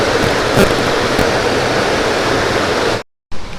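Wang Takhrai waterfall in a national park roars with loud, steady rushing water that fills the whole clip, cutting out briefly near the end before resuming. No voices are heard.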